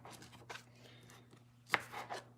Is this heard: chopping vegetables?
yes